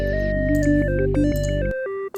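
Dry synth lead improvisation made with a Kia car synth, without any reverb or delay: sustained held notes gliding between pitches over a steady low drone for about two seconds, close and clear.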